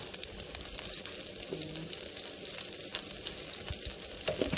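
Chopped scallions sizzling steadily in hot oil in a pan, a dense continuous crackle with occasional stirring clinks, close and moderately loud, no voices.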